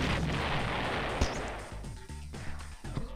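Rapid artillery fire and explosions from the Red Alert strategy game, with a church going up in a blast; dense continuous booming and crackling gunfire, loud and close, with sharper bursts standing out near the end.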